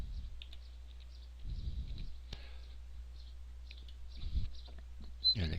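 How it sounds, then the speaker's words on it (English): Quiet clicks come from a computer keyboard as a word is typed into CarveWright design software. The sparse taps fall in a couple of short clusters, faint over a low steady hum, with no voices. "Let's just type the word testing."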